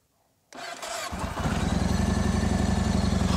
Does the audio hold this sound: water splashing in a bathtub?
no